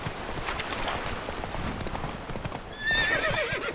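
A horse in The Witcher 3 video game galloping with rapid, steady hoofbeats, ending in a loud neigh.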